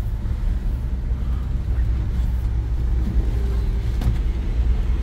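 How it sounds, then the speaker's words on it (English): A 1969 Ford F100 Farm & Ranch Special pickup crawling in first gear, a low steady engine rumble heard from inside the cab, constant and fairly loud. "Let's go ahead and back down to first gear here."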